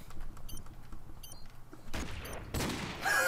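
Gunfire in a first-person shooter match, with bursts of shots crackling loudly in the second half, preceded by quieter game ambience and faint clicks, no talk.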